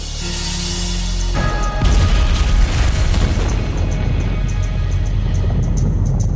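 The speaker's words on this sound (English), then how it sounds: "Up there is where you're going to see it go boom. There is enough TNT to level a 10-story building." A large TNT charge detonated near a cliff top, enough to level a ten-story building, bursts into a loud, sustained roaring boom that rumbles on for several seconds without fading away.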